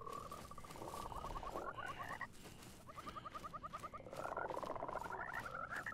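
Several frogs croak in the video game Mortal Shell, overlapping trains of fast rattling croaks that stop briefly and then return louder, set against a constant ambient wash.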